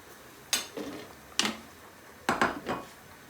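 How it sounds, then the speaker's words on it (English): A spoon knocks against the side of a pot of Bangladeshi egg curry with boiled eggs on high gas, three clear clinks each followed by softer scraping, close and alone. "I'll carefully give this a nice stir"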